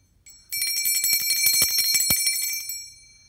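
An engraved bell that sits in a candlestick holder rings with a rapid bright metallic trill for about two seconds, close and loud, then fades out, with no talk.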